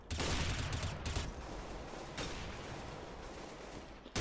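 Continuous loud gunfire from a Counter-Strike: Global Offensive deathmatch, dense overlapping rifle bursts with brief dips, close and harsh throughout.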